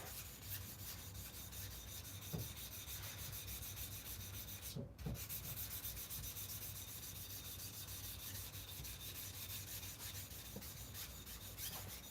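A knife blade is rubbed back and forth across a wetted whetstone in a steady, continuous scraping hiss that stays close but quiet, with a brief pause midway.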